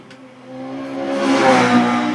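An OMS 28 race car with a TKD 2.6-litre V8 engine at a hill climb, the engine note rising loudly as it accelerates over about two seconds, heard alone.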